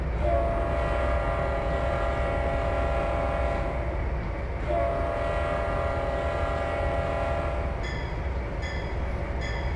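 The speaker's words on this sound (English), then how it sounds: "I really like that bell sound." A locomotive's bell and horn in the train simulator Trainz 2022, with a sustained horn blast that pauses and resumes over steady rumbling, then rhythmic ringing bell strikes near the end.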